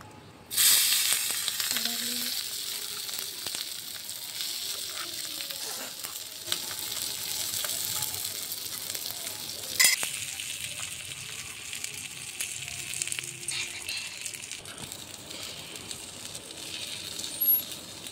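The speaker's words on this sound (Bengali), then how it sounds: "এবার আমি খিচুড়িটা দিয়ে দিচ্ছি।" Khichuri is tipped into a hot pan and bursts into a loud, sudden sizzle. The steady hissing fry that follows is broken by occasional metallic clinks and scrapes.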